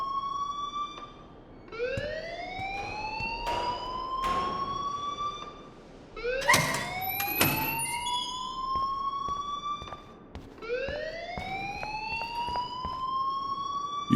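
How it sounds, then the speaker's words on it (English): A loud electronic school alarm in the Life Is Strange video game wails in repeated rising sweeps, each tone climbing and holding, cycling about every four seconds with a few sharp bursts layered in the middle. "please turn off that alarm since that's your job"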